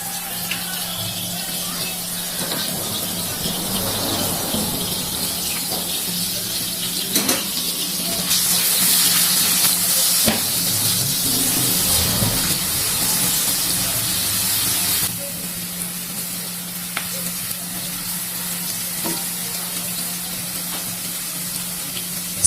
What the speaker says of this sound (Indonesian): Tumiskan bawang putih dan bawang merah cincang, juga irisan cabai rawit hijaunya.